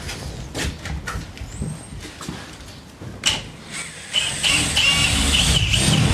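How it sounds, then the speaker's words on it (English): A drill bores holes through the wall of a garden room, bursts of whirring and grinding that build to a sustained loud drilling toward the end, with clunks in between. "we're going to drill through our wall with our drill bits"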